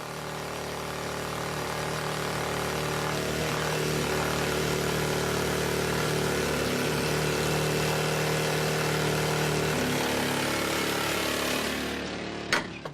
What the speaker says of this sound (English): Another specialized team perforates the wall where requested in order to prepare the blast.